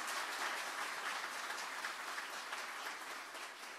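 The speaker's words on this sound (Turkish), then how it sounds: "Büyükşehir Belediye Başkanımıza kocaman bir alkış istiyorum." An audience applauds a city mayor at a municipal event in Kartal, Istanbul. The clapping is faint and steady and carries on alone for a few seconds.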